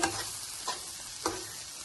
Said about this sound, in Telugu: మధ్య మధ్యలో కొంచెం కలపెడతా ఉండాలండి